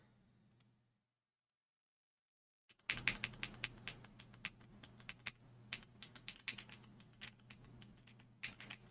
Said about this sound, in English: So you're still hearing my keyboard because I can hear it on my microphone.